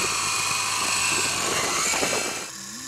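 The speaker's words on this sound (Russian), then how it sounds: "Вот эту вверх поднимаешь, и самолетик летается." A toy remote-control helicopter whirs loudly and close, a sustained buzzing drone that holds for over two seconds before dropping off sharply near the end.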